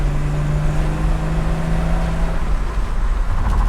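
A 1965 Ford Mustang cruising on a road in Florida, its steady engine drone and road rumble running loud and continuous, with a low hum that drops off partway through as gears change.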